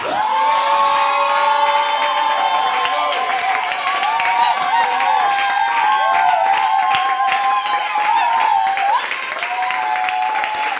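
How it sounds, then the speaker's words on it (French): A congregation at a French-language church service cheering and shouting with joy, a loud sustained crowd roar with high whoops and cries that carries on without a break for the whole stretch. "Je peux entendre les cris de joie."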